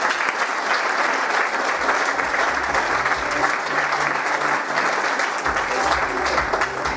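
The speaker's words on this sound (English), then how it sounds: "Give her a big round of applause" A large audience gives a loud, sustained round of applause for a young volunteer, dense and continuous clapping throughout with faint voices beneath.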